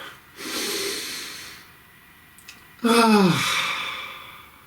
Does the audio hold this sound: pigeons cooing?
no